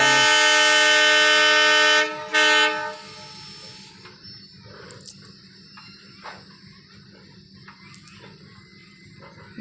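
A train sounds a loud sustained horn in two blasts, then rumbles past with rhythmic wheel clatter and scattered metallic clanks fading lower.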